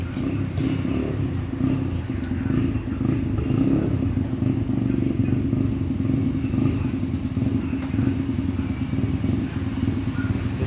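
A motorcycle being ridden, its engine running loud and close with a steady mid-pitched drone and rattly clatter, holding fairly even throughout without pauses.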